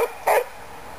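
A dog gives a single short, sharp bark, close by, against a quiet background.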